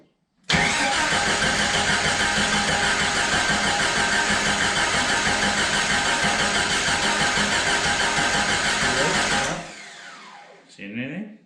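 A restored Jurassic Park Jeep, number 73, cranks and fires up, then runs at a loud steady roar for about nine seconds before cutting off, followed by faint handling noise.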